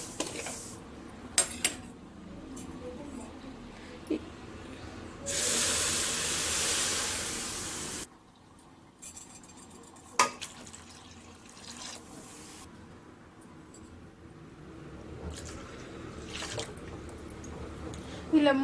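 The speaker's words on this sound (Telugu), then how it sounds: "ఇప్పుడు మనం ఒక గ్లాస్కి 3 గ్లాసులు వాటర్ తీసుకోవాలండి, పోసుకోవాలి" Water is poured into a pan of wheat semolina and stirred, with a few seconds of steady rushing pour among clinks and scrapes of utensils and drips, while a voice speaks intermittently.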